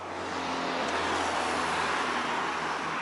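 Traffic moves near the Armenian border crossing from Georgia, where many trucks wait, heard as a steady, moderately loud road wash of passing vehicles with a continuous low engine hum.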